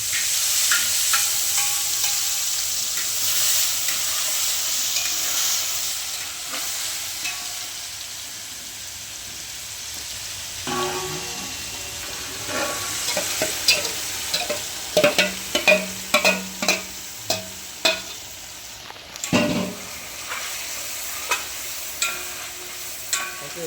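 Marinated chicken for a dum biryani hits a hot pan with a steady sizzle, then a run of sharp spatula scrapes and clanks as it is stirred, close and clear with no talk.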